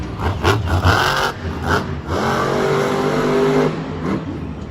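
The Megalodon monster truck revs its engine during its run at a Monster Jam show in Orlando, Florida, with loud bursts of roaring engine swelling and easing back, then a sustained high rev near the end.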